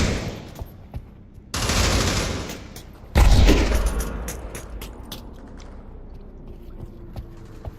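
Gunfire in the virtual reality shooter Pavlov comes as sharp bursts and rapid volleys, loud and close, alternating with quieter gaps and small clicks.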